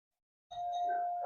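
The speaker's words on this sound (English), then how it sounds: "my doorbell ringing" A doorbell rings once at home, a steady two-tone chime that starts abruptly and holds clear and fairly close, with a louder burst at the very end.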